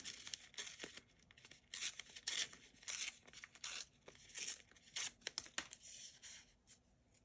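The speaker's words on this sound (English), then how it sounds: "I'm just gonna rip this" Paper being ripped for a layered planner spread, several short close tearing strokes and crinkles in irregular bursts, quiet overall with brief pauses between rips.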